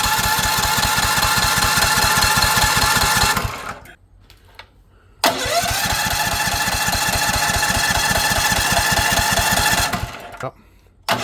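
A small engine fitted with an alternator is cranked over to prime it, giving a rapid, loud chugging that runs for about three seconds, stops briefly, then churns again for another five seconds before cutting out.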